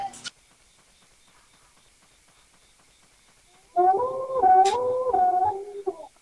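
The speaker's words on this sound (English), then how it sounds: "I hear howling." A wolf in a video game howls in a rising, wavering cry after a long near-silent pause, loud and close, with a brief yelp just before the howl.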